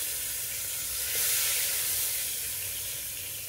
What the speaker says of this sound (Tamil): இப்போ சிக்கன் கிரேவிக்கு எண்ணெய் ஊற்றிக்கோங்க தேவையான அளவு.